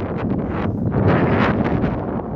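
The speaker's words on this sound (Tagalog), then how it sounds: "Grabe ang hangin. Hangin talaga." Strong wind buffeting the microphone, a loud continuous roar with gusty surges, no voices heard.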